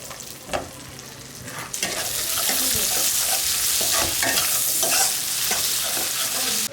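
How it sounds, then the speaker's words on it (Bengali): Onions frying in a pan with whole cumin, cinnamon and cloves: a quiet start, then a loud, steady sizzle that jumps up as they go in, with scraping stirs throughout. "এবার পেঁয়াজটা দিয়ে পেঁয়াজটা সুন্দর করে লাল লাল করে ভেজে নেবো"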